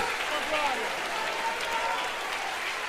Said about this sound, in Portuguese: aplaude acima da tua cabeça